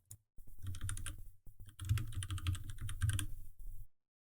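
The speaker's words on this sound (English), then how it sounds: "And in this search box up here, I'm going to type in site offline." Rapid clatter of keys on a computer keyboard as a short phrase is typed into a search box, two close, steady bursts of tapping separated by a brief pause.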